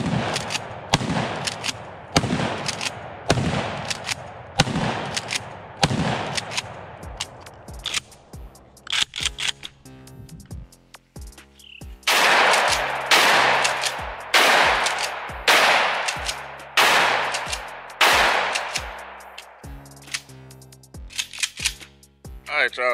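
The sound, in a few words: shotgun firing buckshot at targets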